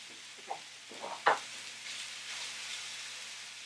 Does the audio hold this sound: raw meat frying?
yes